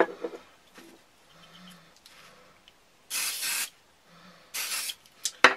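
3-in-1 oil is sprayed onto a bushcraft knife in two short, sharp hissing bursts, with quiet handling and faint clinks in the pauses between them.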